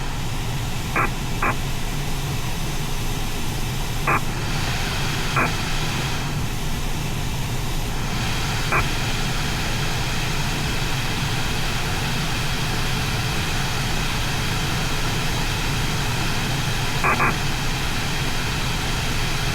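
A small aircraft in flight over North Wales gives a steady, even broadband drone throughout, with a few faint clicks now and then and no talking.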